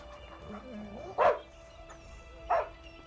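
Hunting dogs bark twice outdoors, two sharp separate barks over a quiet background with faint low sounds between.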